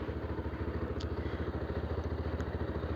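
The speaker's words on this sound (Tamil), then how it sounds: "ஸோ லைட்டாக ரேஸ் ஆகட்டும்." A 220F motorcycle engine runs at a steady low rev during chain maintenance, giving a close, continuous, rhythmic mechanical throb with faint clatter and no speech.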